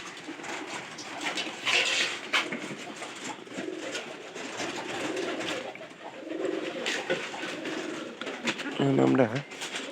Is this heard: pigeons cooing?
yes